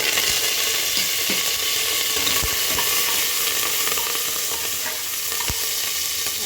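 Green chillies, garlic and curry leaves fry in hot oil with a steady, dense sizzle and occasional stirring clinks, nearby and continuous with no voices.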